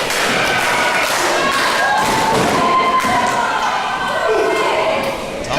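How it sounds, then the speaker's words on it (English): A pro wrestling crowd fills a small venue with loud, continuous noise while an announcer calls the action over it. A side suplex slam lands somewhere in the din but does not stand out clearly. "side to the side suplex and takes down Tom Arson"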